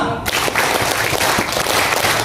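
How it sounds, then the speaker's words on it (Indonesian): A seminar audience claps together in a set pattern, loud dense bursts of many hands filling the room with a steady rhythmic texture. "Oke, tepuk tangan kedua."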